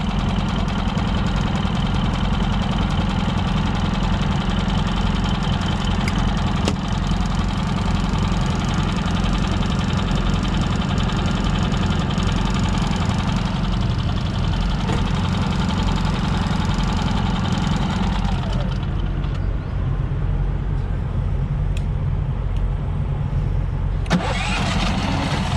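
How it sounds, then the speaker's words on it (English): A faulty generator engine runs steadily with a loud, rough mechanical drone and knocking, the pitch and load shifting near the end as if it stalls and restarts, with no speech. "Something's wrong with the generator."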